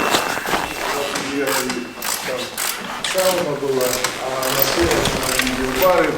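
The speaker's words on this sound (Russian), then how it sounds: "Парни натягивают трак у Полариса" Mechanical ratcheting and clanking from crew members tensioning the track on a Polaris Titan snowmobile, steady close work sounds running under continuous conversation.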